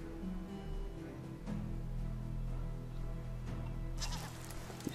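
Goat bleats in the video game Medieval Dynasty, a steady stream of animal calls over a farmyard ambience with a brighter, sharper cry near the end.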